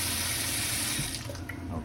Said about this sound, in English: and just put some water in the pan.